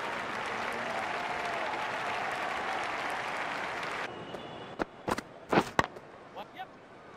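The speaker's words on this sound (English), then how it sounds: "Yes, that's what the crowd is." Crowd applause in a cricket video game, a dense steady roar of clapping for about four seconds that cuts off abruptly, followed by a few sharp knocks and thuds.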